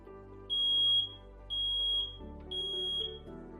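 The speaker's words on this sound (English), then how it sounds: "Have working smoke alarms." Smoke alarm beeping in three evenly spaced, loud high-pitched bursts, each about half a second long, over a low background hum.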